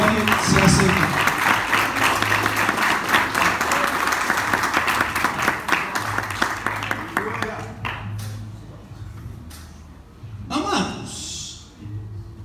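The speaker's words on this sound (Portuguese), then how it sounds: "dê uma grande salva de palmas para Jesus" Church congregation giving a loud round of applause, dense clapping that tapers off after several seconds into scattered claps, with voices talking throughout.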